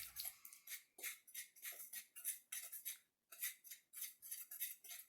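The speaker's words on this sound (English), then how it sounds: "You're going to want to whisk these together until very well combined" A whisk rattling against a bowl while dry cookie ingredients are mixed: quiet, rhythmic metallic scraping strokes in steady repeated bursts with brief pauses, close-up and soft.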